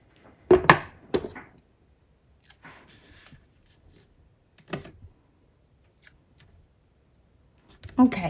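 Scissors snip a paper planner sticker in a few short, close crisp cuts separated by quiet gaps, with a faint voice in between.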